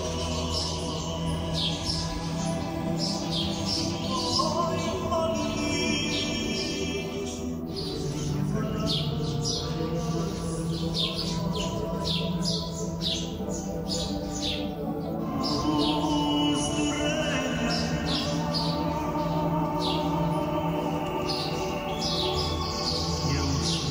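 Birds singing at the Monastery of Saint Gerasimus of the Jordan in a desert oasis in the Holy Land, a steady chorus of chirps and tweets over a constant dense background hum, lasting throughout.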